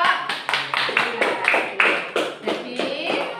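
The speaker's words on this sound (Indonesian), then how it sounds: "oke, tepuk tangan untuk kelompok" A classroom gives a presenting student group a round of applause, with irregular bursts of hand claps at a steady moderate loudness and no one speaking.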